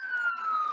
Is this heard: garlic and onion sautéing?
no